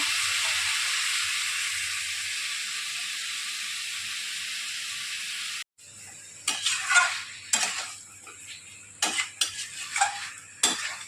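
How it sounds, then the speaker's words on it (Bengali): Chicken curry cooking in a pan at home, a loud steady hissing sizzle that cuts off abruptly, then quieter bursts of stirring, scraping and spoon clatter against the pan. "হ্যাঁ, তাই জন্য চিকেন রান্না করছে।"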